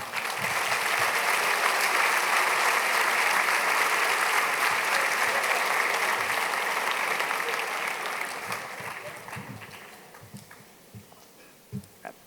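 Graduation-day crowd at Aloha College applauds a new principal, a broad, sustained round of clapping that fades after about ten seconds, leaving a few scattered lone claps near the end.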